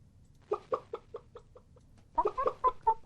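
A series of short, clipped clucking calls in two bursts, a slow run then a quicker cluster, fairly close and clear against quiet background.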